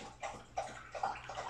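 A dog named Rex laps water steadily from a bowl, rhythmic wet slurps repeating about every half second, close and unbroken, with a low hum underneath.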